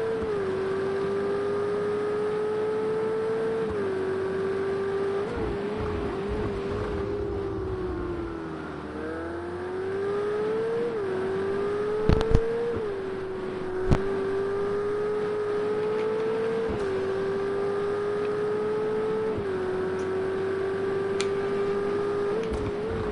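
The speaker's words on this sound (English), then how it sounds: "listen into the sound of the beautiful, beautiful Ferrari V8" Ferrari V8 engine heard onboard in Project CARS 2 during a GT3 race at Zhuhai, a loud continuous drone rising and falling with throttle and gear changes, with a few brief clicks near the middle.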